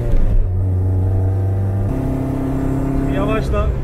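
Lada 2104 with a swapped engine revving, a loud, steady low engine drone that shifts pitch partway through and climbs toward the end, heard close under people talking.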